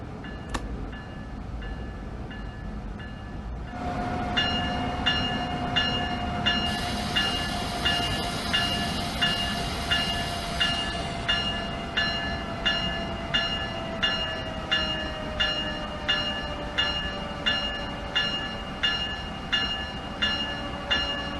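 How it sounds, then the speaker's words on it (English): Simulated Amtrak ACS-64 electric train easing along a platform in Train Sim World 2, with a steady motor whine and regular clicks of wheels over rail joints slowing over about twenty seconds, and a high tone entering midway. "Try and get this train stopped now."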